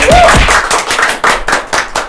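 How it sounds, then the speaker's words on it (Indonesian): Clapping from an audience at the opening of the Bali Respon podcast with guest Wayan Koster, a run of irregular claps over about two seconds, fairly loud, with a voice briefly heard at the start. "Tepuk tangan semua dong"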